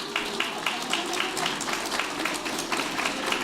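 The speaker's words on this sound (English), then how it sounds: "Everyone else, give them a huge round of applause." A luncheon audience gives a steady, dense round of applause for a standing graduating class, many hands clapping together at moderate loudness with faint voices underneath.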